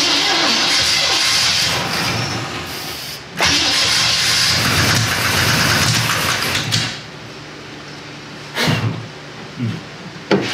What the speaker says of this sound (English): It does sound like a lifter.